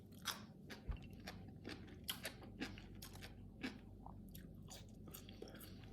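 Pickles are chewed close to the mic, a quiet series of irregular wet crunches and bites spread over several seconds without talk.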